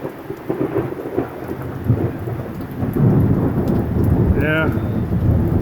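Thunderstorm with heavy rain over open cotton fields, a steady loud downpour with rumbling thunder that swells and grows heavier midway.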